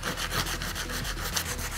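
Sandpaper is rubbed back and forth over a ridge of cured resin, making a quiet, rhythmic scratchy rasping with even strokes close to the listener and no voices.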